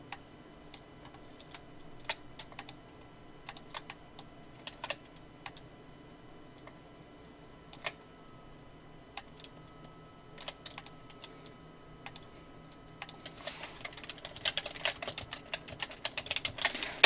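Scattered keystrokes tap on a computer keyboard during illustration software work, quiet and close, with sparse clicks before a denser burst of typing at the end; no one speaks.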